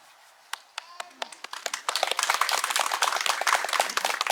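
Wedding guests begin applauding with a few scattered individual claps that quickly swell into dense, sustained applause from a crowd, with voices mixed in.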